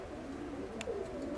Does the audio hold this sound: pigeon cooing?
yes